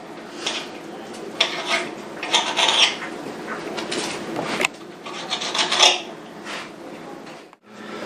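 A knife slices a raw deer heart into strips on a board, giving repeated close rasping, scraping strokes with small clinks, steady and moderately loud with no talking.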